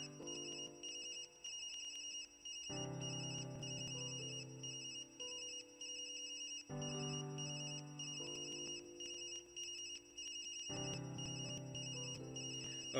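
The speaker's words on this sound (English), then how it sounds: "Oh, that ringing noise is driving me nuts," A steady electronic ringing tone in the video game Tokyo Dark sounds continuously over a repeating synthesized melody whose notes shift every few seconds; quiet, with no voices.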